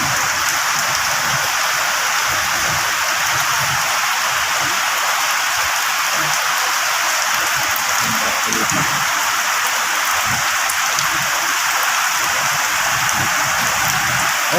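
Heavy rain pours steadily in Pampanga, a dense, even hiss of water striking surfaces close by, with no pauses and no voices.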